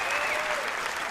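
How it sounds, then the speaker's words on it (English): Studio audience applause on a magic competition television show, a steady dense wash of clapping and cheering filling the whole moment, loud and close. "Let's give Genevieve a round of applause."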